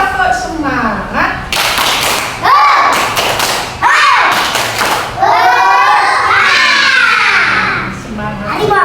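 Schoolchildren in a classroom chant and clap together in a rhythmic group clap, loud close bursts of hand claps and thumps mixed with their shouted voices.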